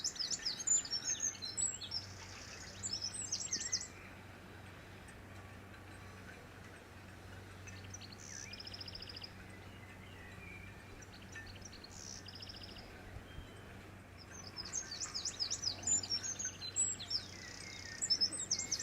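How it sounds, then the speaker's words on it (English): Birds chirp and twitter beside the water at Hickling boat yards on the Norfolk Broads, in bursts of bright calls over a quiet low background hum, louder at the start and near the end. "Birds are making lots of noise, aren't they?"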